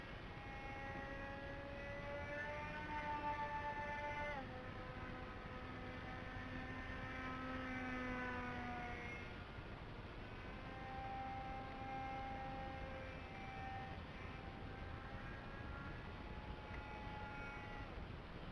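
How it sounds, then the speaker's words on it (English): A small remote-controlled airplane on a wing day, flown well off at a distance, its engine whine holding steady then shifting pitch in sweeping rises and falls as it passes and turns, continuous throughout. "it's a small plane and I'm flying at a bit of a distance"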